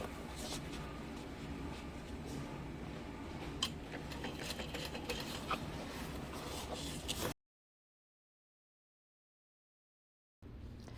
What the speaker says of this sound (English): we're going to top stitch this tube onto the main panel here.